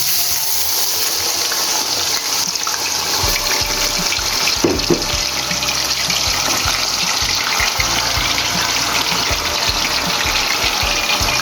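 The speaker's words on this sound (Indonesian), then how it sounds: "Saya gorengnya sedikit agak kering biar enak, jadi nggak basah ya." Potato pieces fry in hot oil in a pan with a steady, dense sizzle and crackle that fills the whole stretch, close and fairly loud, with a brief clatter partway through.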